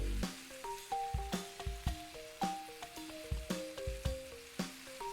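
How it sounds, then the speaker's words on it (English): Beef pieces browning in a full pan, a soft continuous sizzle under music with a repeated bright melody and rhythmic beats, no talk. "I want to get all sides of the beef brown"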